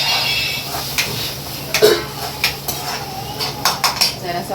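Masala paste is added to a crab curry in a metal pan and stirred, with a spoon scraping and clanking against the pan in uneven knocks over a low sizzle, close by with no talking.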